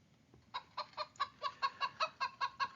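Chicken clucking in a rapid, even series of about a dozen short, nasal clucks, fairly quiet and close against a soft noisy background.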